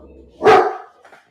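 A single close, loud bark from a pet dog at home interrupts an online community discussion, a short sharp yap followed by a faint trailing whine.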